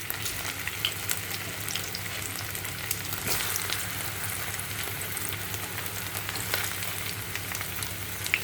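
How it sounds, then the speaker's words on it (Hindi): Chunks of taro root (arbi) frying in hot oil in a batch for dum arbi, a dense continuous sizzle with bubbly crackle and occasional scrapes, steady and close, with no talking. "हो सकता है मुझे इसे 2 बार में फ्राई करना पड़े, क्योंकि ये काफ़ी सारी अरबी है।"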